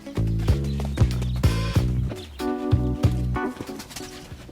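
In an animated story, a cartoon donkey walks back and forth with garbage loaded on its back, its hooves clopping in a steady rhythm over bright tonal music.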